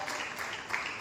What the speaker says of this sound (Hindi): जोरदार तालियों से उनके लिए भी स्वागत